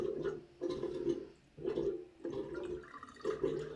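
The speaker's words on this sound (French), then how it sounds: "il est en train de pomper, machin, et puis t'as l'eau qui revient là, comme ça dans ma douche" Shower water is pumped and gurgles back up into a neighbouring shower drain, coming in repeated sloshing, gargling surges with brief pauses between them, fairly faint.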